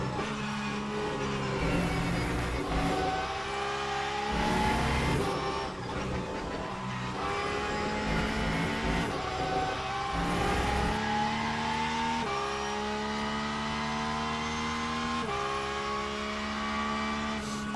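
Race car engines roar continuously in the Le Mans Ultimate racing sim, a loud dense pack of cars at a start, with rising and shifting engine pitches as several machines accelerate together, no talk over them.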